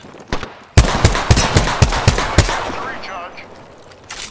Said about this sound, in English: I'm getting shot. I'm taking the shot.